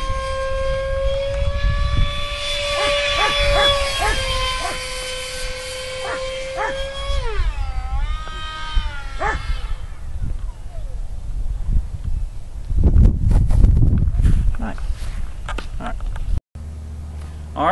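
A Skyartec F-16 RC jet's high-pitched ducted fan screams at full throttle, its whine sliding up and down in pitch, then fading into rumbling wind and handling noise.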